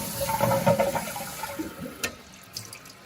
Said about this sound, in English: give this bad boy a flush